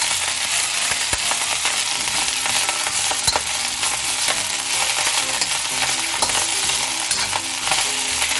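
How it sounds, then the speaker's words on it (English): Kale sautes in avocado oil in a wok with a steady, crackling sizzle broken by sharp clicks and scrapes from stirring, close and continuous with no talking. "Add our kale. Just saute that for a little while."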